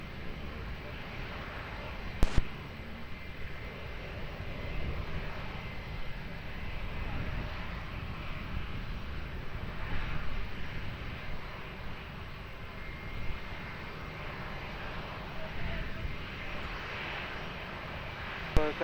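An airplane takes off from Lisbon Airport on runway 20, a steady broad engine roar that rises slightly and holds, heard from a distance, with faint tower radio chatter in the background.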